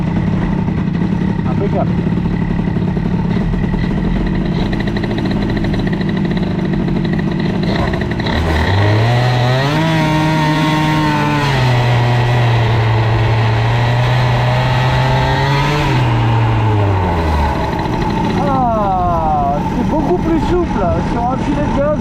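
A scooter fitted with an Airsal 70cc CPI kit and a boosted crankcase starts up, idling roughly before it revs up loudly, holds a steady high pitch, then drops back, with someone speaking briefly nearby.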